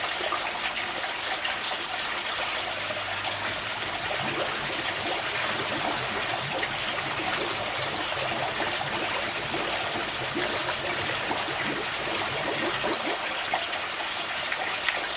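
Air pump driving a large air stone in a koi pond, producing a constant close fizz of bubbling and churning water, even and unbroken, with no voices.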